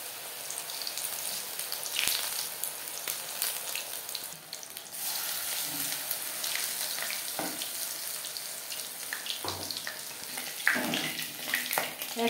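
Pumpkin flower pakoras coated in gram flour batter fry in hot oil, giving a steady, even sizzle that fills the whole stretch with a few sharper crackles and spits, fairly quiet and with no talking.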